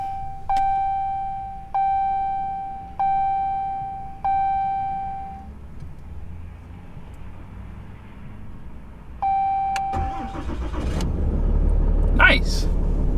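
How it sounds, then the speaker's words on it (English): A 2021 RAM 3500 HD Tradesman Cummins turbo diesel makes a cold start on a windy day: several evenly spaced dash warning chimes, then the engine cranks and catches into a loud, deep, steady rumble near the end. "it's time to start up a really cold Cummins turbo diesel"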